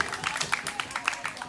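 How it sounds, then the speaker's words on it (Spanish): A small indoor audience at an Earth Day school event claps for a young woman, giving a brief, moderately loud patter of many hands. "Un aplauso para esa joven."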